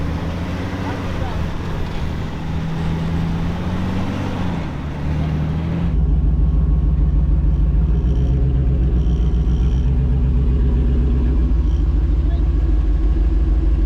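Off-road rig on a rock trail course, its engine rumbling low and heavy over obstacles, building louder and steady after a few seconds, with people talking over it at first.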